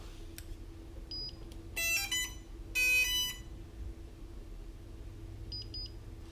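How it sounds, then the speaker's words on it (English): Two distinct electronic beeps from a remote confirming pairing sound close by, separated by about a second, with fainter chirps before and after over a low steady hum. "So the 2 beeps on the remote confirmed that it connected"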